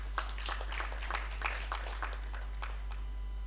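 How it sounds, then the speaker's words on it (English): Scattered applause from a conference audience for a speaker at a health and conservation event, a light patter of claps over a steady low hum, fading toward the end. "could we give him a very big round of applause?"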